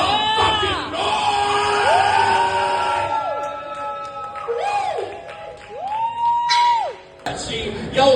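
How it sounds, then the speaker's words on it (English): A crowd at a live show in a brewery yells, whoops and bellows loudly for several seconds, with a few drawn-out shouts rising above the mass of voices and a brief lull near the end. "So Primitivo, make some motherfucking noise!"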